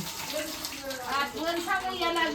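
Rice being washed in a bowl of water in a home kitchen: a steady run of splashing, trickling water with faint voices in the background.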